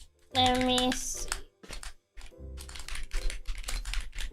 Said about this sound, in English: I was typing something, but I don't know if it's actually going through the mic